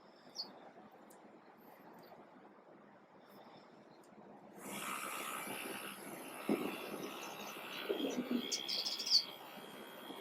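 Birds chirp and tweet outdoors on a windy morning in sunny Miami, Florida, with scattered calls over steady wind and a broadband construction rumble that swells halfway through.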